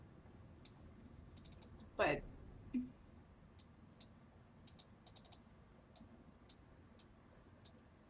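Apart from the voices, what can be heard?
computer clicking while playing The Room 2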